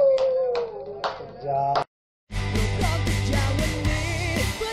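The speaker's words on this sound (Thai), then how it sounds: "ปรบมือให้ปรบมือพี่เร็ว" A small audience claps briefly for a child's singing, with a few short bursts of close hand claps mixed with voices, followed by a break and then music.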